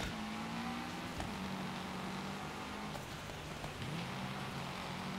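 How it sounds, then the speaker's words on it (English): Torrential rain pours down in the rally racing game Gravel, a dense continuous hiss of downpour under the steady hum of a car engine that shifts pitch now and then. "Oh, the sky is opened. We have torrential downpour."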